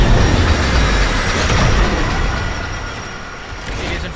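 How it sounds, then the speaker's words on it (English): Train pulling into a station in the video game Warframe, a steady loud rumble of rolling rail cars with clattering wheels that slowly eases off over a few seconds, with no talking. "The next train is arriving."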